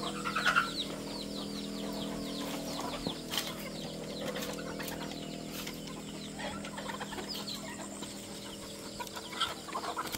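Hungry chickens cluck and murmur continuously in a yard, a busy flock chorus at moderate distance with scattered sharper calls and a low steady background hum.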